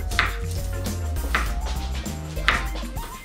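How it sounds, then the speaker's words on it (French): Shallots, garlic and parsley being finely chopped with a large knife on a board, giving three sharp knife strikes spaced about a second apart over a low background hum. "mettre avec le persil et hacher le tout finement"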